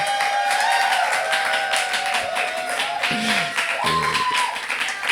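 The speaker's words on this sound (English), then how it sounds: "a big applause for Luciana Garcia" An audience at a lecture by a pianist and composer gives steady, moderately loud applause of many hands clapping throughout, with faint tonal sounds beneath.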